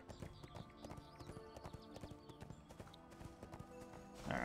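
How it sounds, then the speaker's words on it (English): A summoned horse in the online game ArcheAge trots with crisp, rhythmic hoof clip-clops, steady and fairly close, with a brief whinny-like burst near the end. "it takes me another second to summon my horse."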